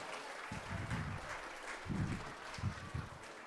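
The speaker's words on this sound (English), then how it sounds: "come on, your claps cannot stop here" Students clap at a school awards ceremony, bursts of applause from a moderate crowd rising and falling in several waves, fairly near and unaccompanied by speech.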